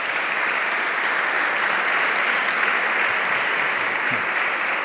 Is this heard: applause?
yes